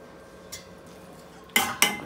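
A spoon clinks twice against a pot while pumpkin kootu with curry leaves is stirred, two short sharp metallic knocks after a softer tap, close and brief.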